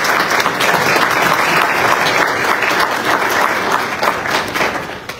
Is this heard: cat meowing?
no